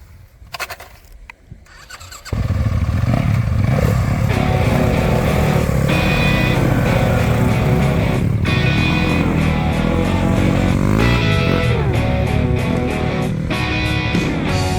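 2023 Yamaha WR 250 dirt bikes starting up after a couple of seconds of quiet handling, then engines revving loudly and continuously with rising and falling throttle as the riders pull away.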